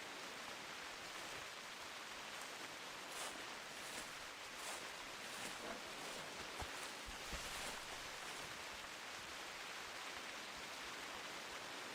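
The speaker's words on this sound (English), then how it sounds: "Kind of hard to hear with the rain." Steady, faint rain hisses across the scene in the hunting game theHunter Classic, a continuous wash of drops with a few soft spatters and low thumps, and no talk.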